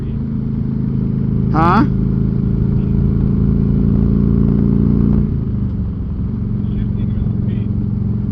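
A Harley-Davidson Electra Glide bagger motorcycle engine holds a loud, steady, deep idle rumble close by, then the pitch drops slightly near the end. A brief voice and a short squeak break in over it.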